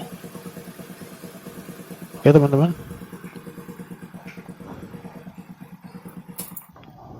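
A motorcycle engine with a suspected faulty regulator-rectifier idles steadily with an even, pulsing throb, close and fairly loud, while someone speaks briefly over it.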